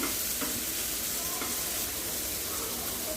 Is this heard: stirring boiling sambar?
yes